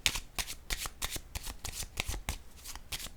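Tarot cards shuffled and flipped in a quick, irregular run of crisp riffles and slaps, close and fairly quiet, with no talk over them.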